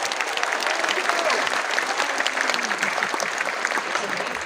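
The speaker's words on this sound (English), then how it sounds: "Can everyone just give a round of applause?" Audience applause at a university discussion with Harvard's CS50 professor, a steady wash of many hands clapping at moderate level, continuous and even throughout without a voice on top.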